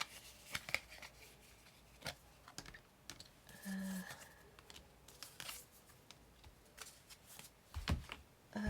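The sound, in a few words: tarot cards being drawn and handled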